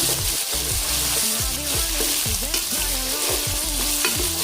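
Sliced onions frying in a pan, a dense constant sizzle with rhythmic stirring scrapes throughout, loud and close with no talk.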